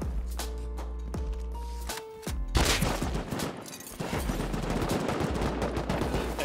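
An AK rifle in the game Rust fires in rapid bursts, sharp repeated cracks up front over a steady background, with a brief pause before a denser stretch of continuous gunfire.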